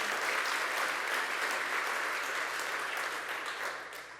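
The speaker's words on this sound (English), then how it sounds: "Let's give Hope Knight a round of applause" Sustained applause from a large audience at a governor's announcement in Ossining, dense and steady throughout, tapering slightly at the end with no voices over it.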